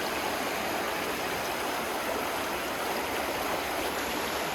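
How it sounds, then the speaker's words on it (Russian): A stream of water rushes steadily in the wild, a constant broadband flowing hiss close by with no pauses and no voices. "Вот вон вода какая."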